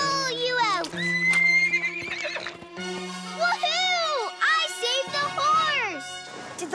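Several high, wavering horse whinnies from a cartoon ring out one after another over a steady tone, with a voice speaking briefly between them.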